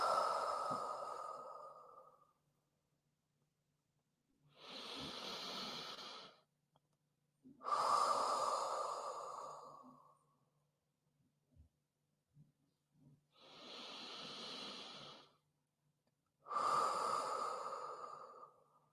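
Slow, deep breaths during a relaxing hip and pelvic-health workout, in five separate swells, each a drawn-out whooshing inhale or exhale with quiet gaps between, close and fairly soft.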